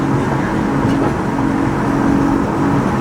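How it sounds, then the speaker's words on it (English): A BMW F30 on the move gives off a constant low hum and droning road noise, steady and moderately loud, with no clear changes across the few seconds. "sounds for wheel bearing, yeah?"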